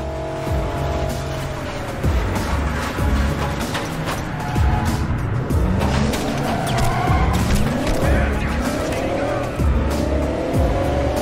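A car drives in the Crackdown video game with a loud, continuous revving engine, rising and falling pitch sweeps, and repeated tire squeals and skids, with no talking.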